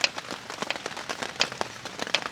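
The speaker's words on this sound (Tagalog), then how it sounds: "Umuulan na, pero may manok pa rin." Rain patters on surfaces at a motorcycle campsite, a dense, even crackle of drops with scattered sharper taps close by.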